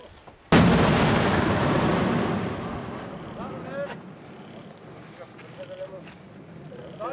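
A 51mm mortar grenade on a firing range: a single sudden loud blast that rolls and decays over several seconds, followed by distant voices talking.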